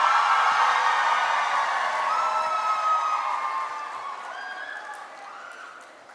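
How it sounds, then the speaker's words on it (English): An audience at a runway show cheers and applauds loudly, with whoops and shouts over dense clapping, then slowly dies away over several seconds. "Please give a round of applause to the Department of Planning and Architecture."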